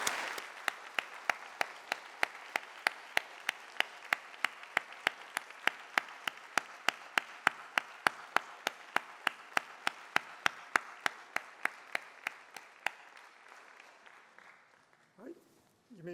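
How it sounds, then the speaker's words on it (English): Steady, evenly spaced clapping at a physics conference session, a rhythmic round of applause for the organizers that runs for about thirteen seconds before fading out. "we can get a round of applause"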